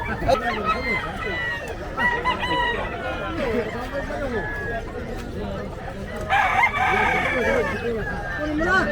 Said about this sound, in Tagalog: tingnan natin yung mga manok na andito